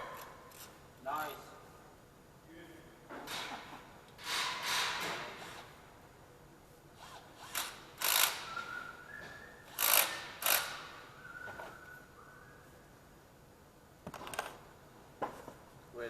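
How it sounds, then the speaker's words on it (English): Screws are driven back in by hand on a 2014 Chevy Sonic during a tune-up and oil service, heard as scattered ratcheting clicks and short metallic bursts, fairly faint, with pauses between and a voice talking at times. "Put the 2 screws back in."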